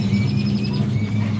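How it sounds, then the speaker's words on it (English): Birds call far off outdoors, with faint high chirps drifting over a steady low rumble during a short stretch. "These birds are way over there, y'all."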